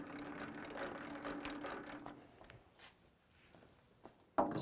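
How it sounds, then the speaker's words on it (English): Metal lathe taking a heavy cut on larger-diameter steel round bar, a Precision Matthews PM-1440GT, giving a steady dense mechanical grinding and chatter for about two seconds before easing into quieter machine hum with a sharp clunk near the end. "let's do a heavier cut on some steel to test the rigidity of this lathe"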